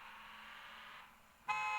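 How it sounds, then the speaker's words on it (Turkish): Truck horn in a truck-driving video game sounding a sustained tone, a short step-up blast at the end, moderately loud with no talking. "kornaya basacağız. Düt düt düt düt."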